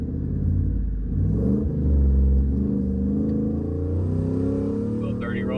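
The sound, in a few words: Ford F150 single turbo truck accelerating in first gear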